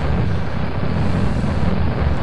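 A Rapier engine firing on a test bed in Kerbal Space Program gives a steady, loud, rushing roar of thrust that holds evenly throughout, with no voices over it.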